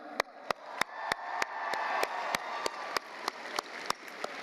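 An audience at a science fair opening ceremony applauds for the title sponsor, a continuous roar of clapping with a loud, regular beat of sharp claps about every third of a second.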